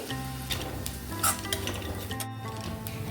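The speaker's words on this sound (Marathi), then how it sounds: "इथे मी अर्धी वाटी खोबरं घालते।" Grated coconut sizzles steadily in a hot pan as it is fried for a Maharashtrian mas vadi rassa masala, with a close, continuous crackle and a few soft scrapes of stirring throughout.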